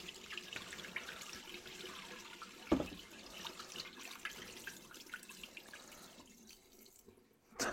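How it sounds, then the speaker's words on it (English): Water squirts out fiercely from a fitting being cleaned and splashes everywhere, a steady close hissing spray with a sharp burst of splashing partway through and a brief gush near the end. "That's shot water everywhere."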